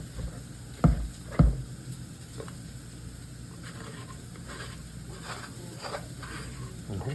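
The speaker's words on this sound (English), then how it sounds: "So I'm gonna mix this for probably a good 10 minutes until it's smooth" Sourdough of starter, water, flour and salt being mixed by hand, a soft continuous wet squelching and patter, with two dull knocks near the start, close and fairly quiet.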